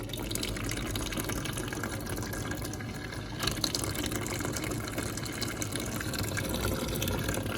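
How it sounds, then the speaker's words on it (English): An UBERMILK milk machine dispenses milk during a deep clean, producing a steady, faint liquid gush and pouring flow that runs continuously throughout. "You can see all the milk coming out there when I hit that."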